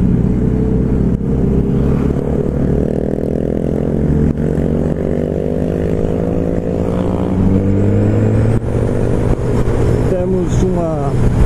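A group of six motorcycles, including a Kawasaki Z1000, riding together on the road, engines droning loudly and steadily with rising and falling revs close by.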